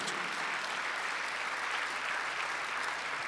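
A Korean church congregation claps during a Sunday worship service, a steady, even wash of many hands heard from a distance, fairly quiet and unbroken with no talk over it.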